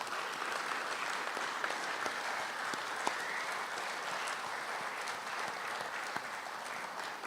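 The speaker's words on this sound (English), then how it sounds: "Let's give them a round of applause." An audience at a school alumni meeting applauds foundation board members, a sustained, even round of many hands clapping for several seconds, heard from across the room with no talk over it.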